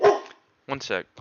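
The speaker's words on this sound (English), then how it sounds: "Sorry about the dog." A dog barks close by, one sharp bark at the start followed by a pair of quick barks, with a person speaking briefly in between.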